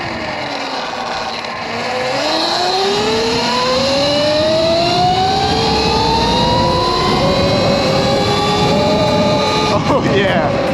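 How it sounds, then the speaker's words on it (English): Custom-built 72V Surron electric dirt bike riding past, a loud whining motor pitch rising and falling steadily over a constant rush of wind and tire noise, close and continuous throughout. "I'm still riding e-bikes, baby."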